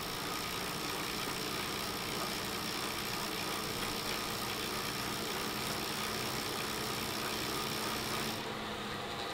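Smart bike trainer spinning up during a pedal test, a faint, steady whirring hum with a constant low drone and even hiss throughout, no voices.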